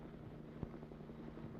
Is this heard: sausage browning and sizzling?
no